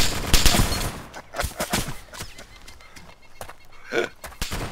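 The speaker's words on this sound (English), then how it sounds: "Both of them were shooting." Gunfire from tanks in the Arma 2 DayZ mod, a rapid burst of heavy shots opening the clip, then scattered loud reports and a final crack near the end.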